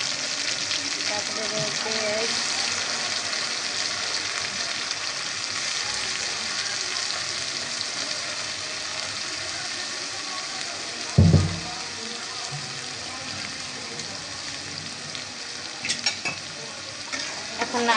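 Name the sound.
ingredients frying and being stirred in hot oil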